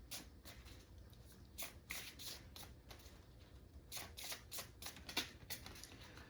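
An oracle card deck, the Sacred Forest Oracle, being shuffled by hand: repeated soft riffling bursts of cards, close and fairly quiet, with no talking.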